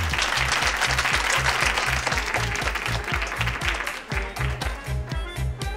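Applause breaks out over a pounding, steady low beat, dense clapping filling the space for several seconds and thinning slightly near the end.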